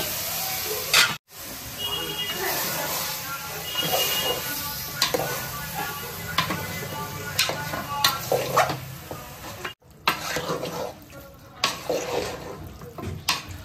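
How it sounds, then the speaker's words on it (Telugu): Country chicken pieces tossed into a hot frying pan and stirred, a steady sizzle and hiss broken by scraping and clinks of a spoon against the pan, with a voice talking over the cooking. "ఒక్క 2 నుంచి 3 నిమిషాలు వేగాక చికెన్ వేసేసుకోవడమే"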